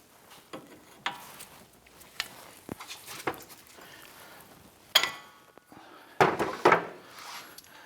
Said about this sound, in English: Using a 24mm wrench, we're going to go ahead and loosen this jam nut.